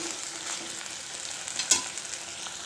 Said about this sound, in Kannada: ಇದನ್ನು ಈ ಥರ ಚೆನ್ನಾಗಿ ಮಿಕ್ಸ್ ಮಾಡಿ ಫ್ರೈ ಮಾಡ್ಕೋಬೇಕು